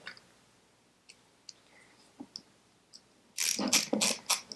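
Ratchet wrench tightening a piston ring compressor on a Citroën 2CV engine during a rebuild: scattered faint clicks at first, then a loud, close run of rapid ratcheting clicks in the last second.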